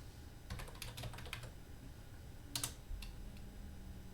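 Computer keyboard typing in short bursts of clicking keystrokes, fairly quiet against a steady background hum, entering commands while setting up a Cisco router and switch.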